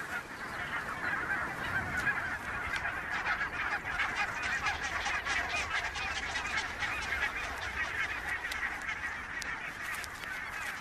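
A flock of barnacle geese grazing across a meadow keeps up a dense, continuous chorus of honking and yapping calls, moderately close and steady throughout.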